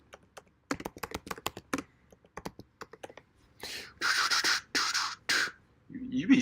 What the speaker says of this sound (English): You be sounding official typing over there.